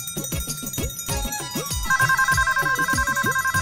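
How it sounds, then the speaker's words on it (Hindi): A mobile phone ringtone plays a repeating electronic melody, loud and close, joined midway by a steady pulsing two-tone ring. "माँ का फोन आया, आवाज कहाँ से आ रही है?"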